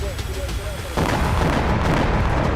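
A mine dropped by a drone explodes in war news footage, a sudden loud broadband blast about a second in that is followed by sustained rumbling roar, after a quieter stretch with faint tonal sounds.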